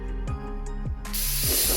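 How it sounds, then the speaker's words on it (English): Short bursts of purple spray paint misted lightly onto a 3D-printed Robocop suit panel, a soft airy hiss that swells near the end over a low background hum. "we got us a nice little mist there"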